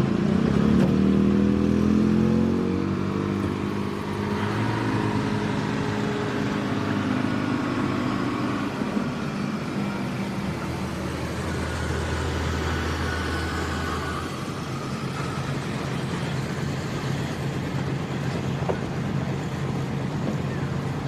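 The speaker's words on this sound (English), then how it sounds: "Watch that smoke, bringing up the RPMs." A pulling truck's engine revs loudly at a truck and tractor pull in Orange, Virginia, a steady heavy roar with a rising whine early on and boost building, continuous and close throughout.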